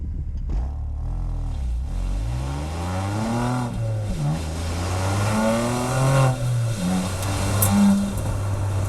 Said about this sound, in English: you want to be hearing some exhaust sound as well